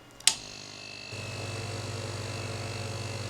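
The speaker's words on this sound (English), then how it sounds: "Now turn on the vacuum" The vacuum pump on a Thorlabs FFS2000 workstation switches on after a brief click. It settles into a steady low mechanical hum with a faint higher whine, running close by and unaccompanied.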